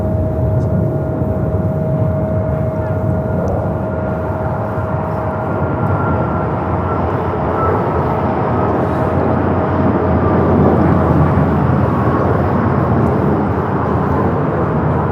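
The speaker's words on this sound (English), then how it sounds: "This is Alaska Airlines 1418 taking off to Guadalajara on the MAX 9." A broad, steady jet roar from an Alaska Airlines Boeing 737 MAX 9 taking off at LAX for Guadalajara, loud and continuous throughout with a sustained whine above the rumble.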